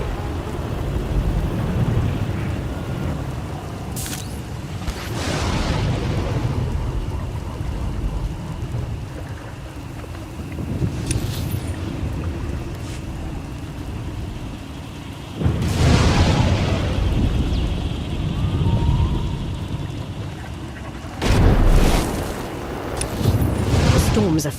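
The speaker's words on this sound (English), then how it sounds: "Storms are fierce today." A fierce thunderstorm in the video game Star Wars: The Old Republic, with steady heavy rain and several loud thunder cracks rolling in, over occasional talk.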